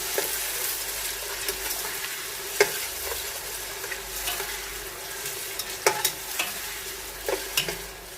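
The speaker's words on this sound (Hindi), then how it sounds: "फिर प्याज को अब हमने गोल्डन ब्राउन होने तक फ्राई करना है" Steady frying sizzle of onions frying in a pan with occasional stirring clinks and scrapes, close and continuous, no voices.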